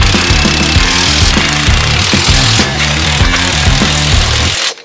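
A power tool tightening bolts on the high-clearance suspension arms of a lifted CFMOTO UForce 1000 XL UTV, hammering in loud, rapid repeated bursts close by, then cutting off abruptly at the end.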